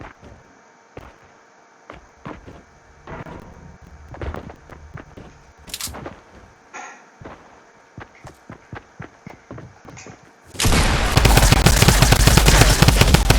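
Video game gunfire: scattered single shots and clicks crack out at an irregular pace, then a loud, dense burst of rapid fire erupts and continues to the end.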